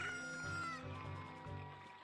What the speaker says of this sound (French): c'est après 8 minutes que d'attente que mon poulet a enfin éclos